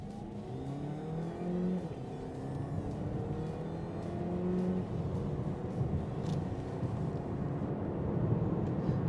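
A Hyundai Kona Hybrid crossover in sport mode accelerates hard from inside the cabin, its engine note climbing steadily through several rising sweeps as it pulls up through the gears, a constant close drone with no talk.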